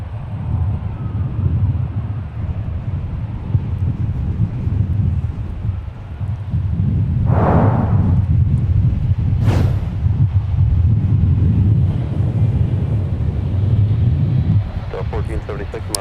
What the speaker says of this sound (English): Boy, that wind is really hauling.